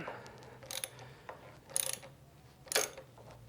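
A ratchet clicks in quick short runs while a stock motorcycle handlebar bolt is cracked loose, faint and close against a low steady hum.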